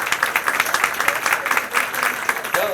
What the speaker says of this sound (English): A round of applause for our keynote speakers.